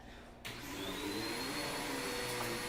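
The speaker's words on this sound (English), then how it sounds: "They're trying to attack the vacuum." A vacuum cleaner switches on and runs with a steady loud whine and roar while dogs go after it, the motor holding a constant drone after the sudden start.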